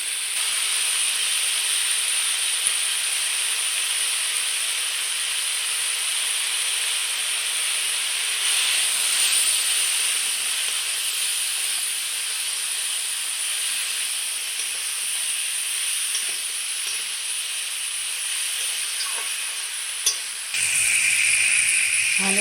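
Ridge gourd and potato fry with spices in a pan, giving a steady, even sizzle and hiss that carries on unbroken, close and fairly loud, with no voices.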